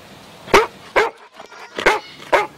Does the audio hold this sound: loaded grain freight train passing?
no